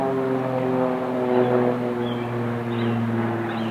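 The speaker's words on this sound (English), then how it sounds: "There's an airplane." An airplane drones overhead near a beach town in San Diego, a steady low hum with tonal bands that holds constant throughout, distant and unaccompanied by talk.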